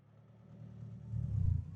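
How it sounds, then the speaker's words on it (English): A car engine in the racing game Wreckfest rumbles low and swells louder over a couple of seconds, as if a vehicle were approaching, with no one talking. "I can hear a car, but there's no car here."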